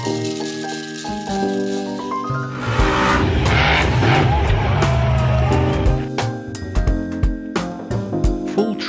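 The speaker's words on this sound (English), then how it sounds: "Monster truck." A toy monster truck's engine sound effect roars loudly for a few seconds and then settles into a rougher rattling rumble, with steady tonal hums underneath.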